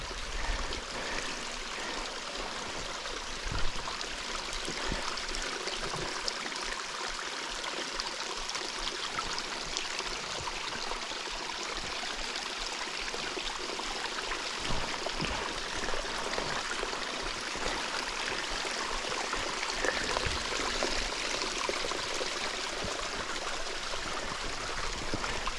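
A mountain stream flows steadily beside a White Mountains hiking trail, with continuous broadband rushing and gurgling water that sounds close and fairly loud. No voices are heard over it for the whole stretch.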